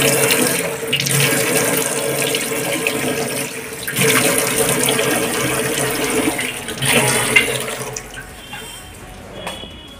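Water runs steadily from a household tap into a sink for about ten seconds while someone washes their face, a continuous splashing rush with brief surges and no talking.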